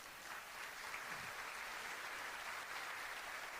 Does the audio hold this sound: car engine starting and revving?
no